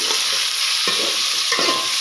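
Small chicken pieces sizzle steadily in a hot pan while a utensil stirs them, giving a few soft scraping strokes under a constant loud frying hiss.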